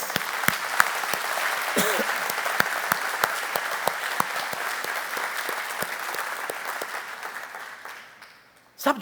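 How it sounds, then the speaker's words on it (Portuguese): A church congregation applauds the hosts of home cell groups during a celebration service, with sustained clapping and sharp individual claps standing out, fading toward the end before a sudden burst. "Vamos aplaudir esses anfitriões."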